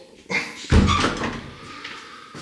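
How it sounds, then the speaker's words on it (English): A door being pulled shut inside an old house under renovation: a soft scuff of movement, then one solid, close thud that rings briefly and fades into a quiet room. "I'll just shut the door"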